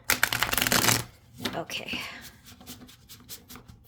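A deck of tarot cards is riffled and shuffled by hand in a quick, crisp burst, followed by softer sliding and tapping of the cards, close to the microphone, with a single brief spoken word.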